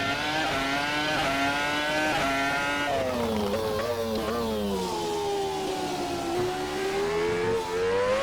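A Renault R25 Formula 1 car's engine screams around a track in Assetto Corsa, a loud, steady high-pitched whine that rises and falls with shifts and throttle changes, heard alone without talk.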